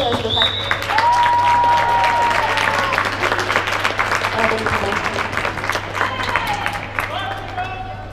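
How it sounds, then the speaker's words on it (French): A roller derby crowd applauds and cheers in an indoor venue with sustained clapping and whistles. Spectators chatter underneath, and an announcer speaks over the noise. "Pour applaudir les pivots pour un poste un peu compliqué de track."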